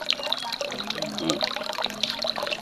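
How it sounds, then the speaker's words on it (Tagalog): Water rising on its own from a well about 20 feet deep, with no electric pump, trickles and splashes steadily at close range, faint but continuous, with no voices. "Kusa lang lumalabas yung tubig mga idol"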